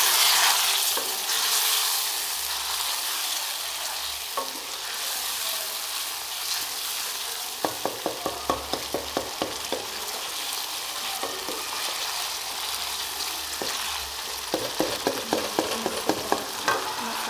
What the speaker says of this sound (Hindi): इसको भूनेंगे मसाले में।